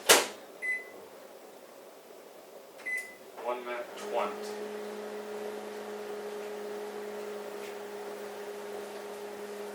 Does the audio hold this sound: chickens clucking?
no